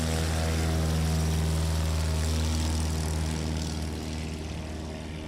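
A STOL airplane's propeller engine roars loudly during a takeoff at a practice event in Sulphur Springs, Texas, a steady droning buzz that eases slightly as it pulls away, with no talking.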